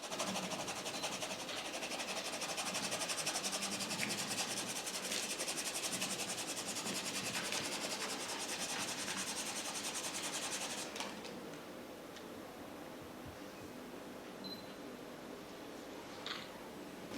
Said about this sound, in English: I need you to observe really very, very carefully on the rubbing effect